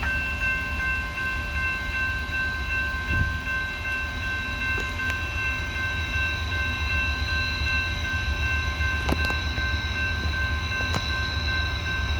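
A freight train of coal hoppers passes the Morgan Station Road crossing on the Old Main Line, a loud, steady rolling rumble with sustained tonal ringing from the crossing and occasional sharp clanks.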